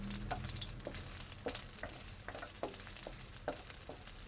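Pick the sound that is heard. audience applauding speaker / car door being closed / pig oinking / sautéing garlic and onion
sautéing garlic and onion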